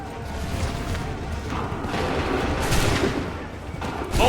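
Musket volleys and booming shots from battle in Assassin's Creed III Remastered, irregular loud blasts and rumbling reports over several seconds, dense and near with no clear talk.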